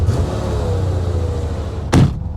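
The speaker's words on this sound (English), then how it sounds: "boy, she's idle a little high, isn't she?" A 1985 Chevy Corvette V8, rescued from a Florida swamp, idles high with a steady, close, low rumble, and a short sharp knock near the end.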